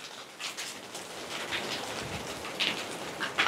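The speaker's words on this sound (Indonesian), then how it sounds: "Pak Rete gini langsung hujan guys." Heavy rain driven by strong wind, a broad rushing hiss that swells and gusts in waves, fairly close and continuous, with no voices.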